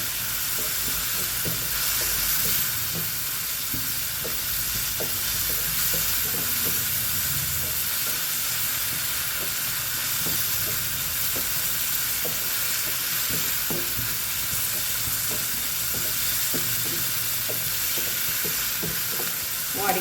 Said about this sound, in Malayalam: വഴറ്റിയെടുക്കും. വേപ്പിൻ്റെ ഇല ഇടാം.